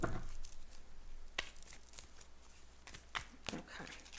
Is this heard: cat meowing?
no